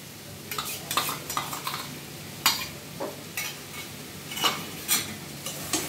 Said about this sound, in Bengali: এবার দিদি খুব ভালোভাবে নেড়ে এঁচোড় আর চিংড়িটাকে মিশিয়ে দিচ্ছে।